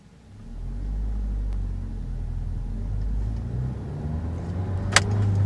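A 2012 Nissan Sentra SE-R Spec-V pulling away, its engine rumble rising to a steady, fairly loud drone heard from inside the cabin, with a short sharp click near the end.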